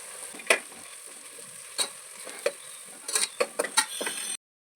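Leftover capsicum tossed into a hot pan for egg biryani sizzles with a steady hiss, broken by several sharp spatula scrapes and knocks against the pan, clustered toward the end before a sudden cutoff.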